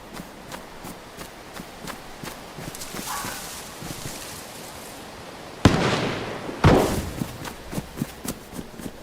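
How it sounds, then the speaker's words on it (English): Gunfire in DayZ on the snowy Namalsk map comes as a couple of sharp, loud blasts partway through, set among lighter thumps and footstep-like taps. "What was he shooting at here?"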